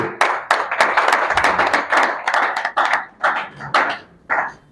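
Audience clapping for guests at a senatorial campaign launch, a series of loud, sharp hand claps in uneven bursts that thin out and slow toward the end, with no talking over them.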